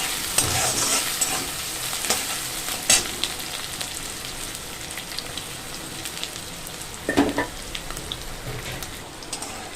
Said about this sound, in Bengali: এবার দিয়ে দেবো পেঁয়াজ কুচি পেঁয়াজ কুচিটা একটু বেশি লাগবে